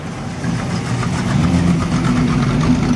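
A classic car engine rumbles at a Coffee n Chrome meet in Mile End, a steady low throbbing idle close by as a Holden Gemini GTS rolls in, with no voices over it.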